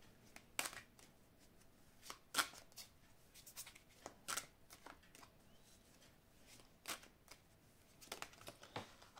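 Oracle of love cards being shuffled by hand, quiet scattered riffling bursts and soft slaps repeating irregularly at close range, with no talking.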